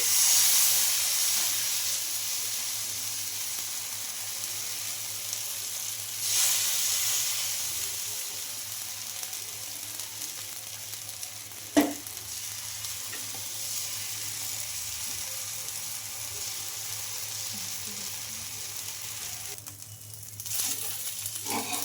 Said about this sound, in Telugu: దాని దోశలు అయితే ఇలానే కాల్చుకోవాలండి